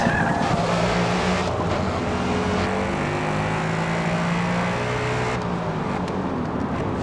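A race car in Forza Motorsport, a neon green Mustang, brakes hard with a loud continuous engine drone and tire noise, the pitch shifting as it slows.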